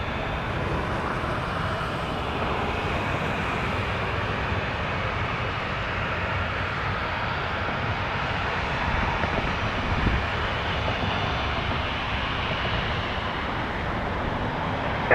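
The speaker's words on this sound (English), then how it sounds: "It is a Challenger." Jet engines of a Bombardier Challenger business jet at Toronto Pearson airport produce an even, continuous roar of moderate loudness, swelling slightly near the end, with no voices.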